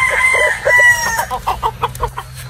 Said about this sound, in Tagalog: Hawak ni Simon isang Boston Roundhead na straight line din, broodstag po ito